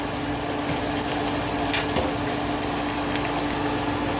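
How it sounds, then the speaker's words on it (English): Blended tomatoes poured into a frying pot for fish and beef stew, giving a steady wet gushing pour with a faint sizzle underneath, close and continuous for a few seconds, with no talking. "Add my blended tomatoes."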